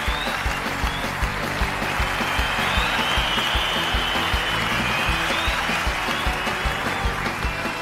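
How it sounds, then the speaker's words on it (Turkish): Audience applause in a Turkish TV studio show, steady rhythmic clapping from a studio crowd with regular beats, fairly loud and continuous without talk over it. "Alkışlarınızla Aşkım Kapışmak geliyor"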